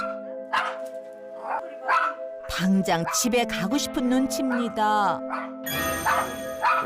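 Jackson, a pet dog at a practical music academy, barks fiercely in several sharp bursts over a Korean narrator's voice, with yips and a doorbell-like chime near the end.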